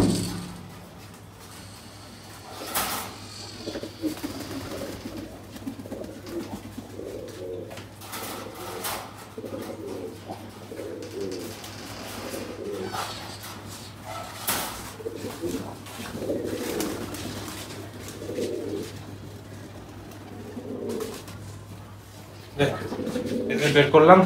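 Pigeons in a loft coo repeatedly in soft rolling phrases, close by and fairly quiet, while a person talks intermittently and handles the birds.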